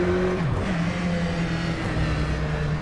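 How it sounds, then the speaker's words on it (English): A simulated race car engine in rFactor 2, a McLaren Senna GTR or Aston Martin GTE on the Nordschleife, holds a steady tone that dips in pitch partway through before settling, loud and alone. "we hear the engine note dipping there"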